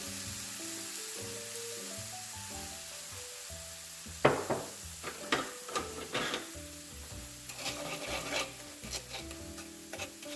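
Chicken stir fry with soy sauce and rice vinegar being stirred in a pan, a steady sizzle broken by scraping, clattering utensil strokes in the second half, close and fairly loud, with background music underneath.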